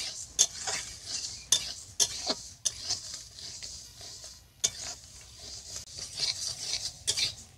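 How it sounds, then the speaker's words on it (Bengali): Sonamukhi moong dal being dry-roasted in a pan, with repeated scraping strokes of a spatula and the light rattle of lentils, close and moderately quiet with no talking. "ডালগুলোকে আমি ভালো করে ভেজে নেব"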